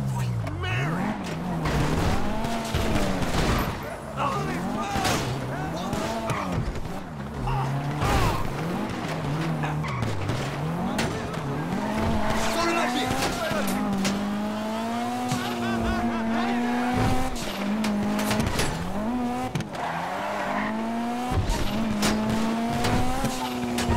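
Car driven in GTA 5 Online with its engine revving and shifting continuously, tires squealing and skidding through turns, loud and close throughout, a voice talking over it at times.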